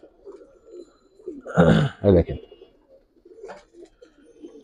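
Giribaz and coloring pigeons at a pigeon farm in Old Dhaka coo softly and repeatedly in the background, while someone speaks briefly and loudly up close in the middle.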